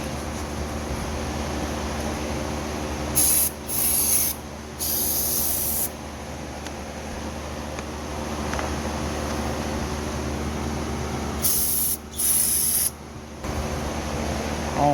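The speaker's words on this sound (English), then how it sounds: "Kind of hard to hold the camera and spray this too." Carburetor cleaner hisses from an aerosol can onto a lawn mower carburetor in two sets of short, loud bursts, separated by a steady background hum.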